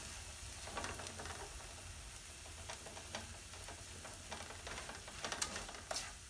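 Okra and garlic simmer in a covered pot on lowered heat, giving a steady, soft bubbling hiss with scattered small clicks and pops, close and fairly quiet.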